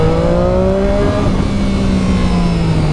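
A motorcycle engine with a strong, loud tone accelerates close by, its pitch climbing steadily through a gear and then holding on as the bike pulls away, with steady wind noise and no talk.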